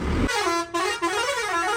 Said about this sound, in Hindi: डर गए हॉर्न की आवाज़ सुन के।